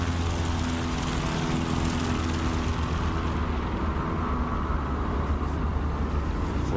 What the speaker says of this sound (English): Pulling back on the sticks, flaps deployed, and off into the sky